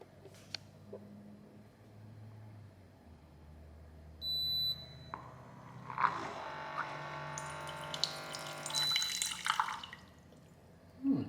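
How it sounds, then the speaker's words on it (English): A Xiaomi Mijia instant hot water dispenser heating and pouring warm water, starting with a short electronic beep, then a rising hiss and steady trickling stream for several seconds, with small clicks and clatters nearby. "So now we're going to try the warm water. So here I'm going to press on it."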